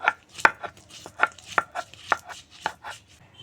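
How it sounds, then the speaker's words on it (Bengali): Soaked chana dal, split chickpeas, worked into a paste by hand, giving a steady series of sharp, close knocks and scrapes about three per second, with no voices. "এখন বাকি ছোলার ডালগুলো এভাবে বেটে নেব"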